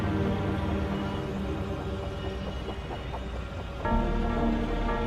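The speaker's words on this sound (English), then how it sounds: "The rain just happened out of nowhere." Steady rain falls in the video game Wuthering Waves, a continuous wash of patter under a sustained tonal background, swelling slightly louder near the end.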